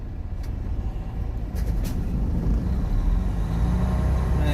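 A car idles and rumbles nearby while slowly maneuvering, its steady low engine drone swelling slightly as it moves, with a few faint clicks and knocks over the top.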